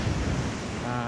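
Surf washing onto a scenic beach in Perak, Malaysia, a steady broadband wash of breaking waves with wind noise across the microphone, continuous and fairly loud for about a second.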